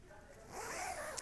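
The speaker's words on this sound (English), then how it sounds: "Full length zip all the way to the base then, made of a mesh interior" A full-length zip on a men's Peak Performance Velocity running jacket is pulled in one short, quiet, close-up zipping stroke that brightens toward the end.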